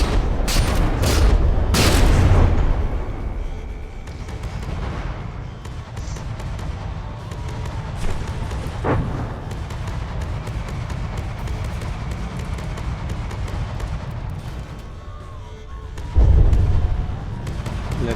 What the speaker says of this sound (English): now the creature is returning fire and just hosing Piupiu with a constant barrage of